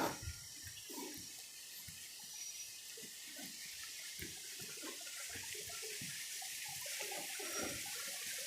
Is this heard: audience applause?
no